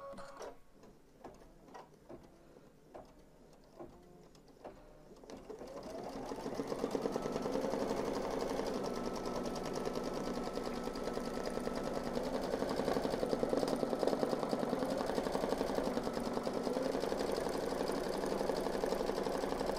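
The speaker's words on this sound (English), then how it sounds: "it's going to stitch the ears together with a reinforcing triple stitch" An embroidery machine stitching a fabric dog softie's ears together with a reinforcing triple stitch starts with a few separate clicks, then settles into a steady, rapid mechanical whirring hum that runs continuously, close and fairly loud, with no talking.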